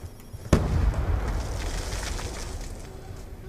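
Landmine blast in a first-person shooter Team Deathmatch match: a sharp, loud burst followed by a rumbling, debris-filled roar that slowly fades, with a second hit at the very end.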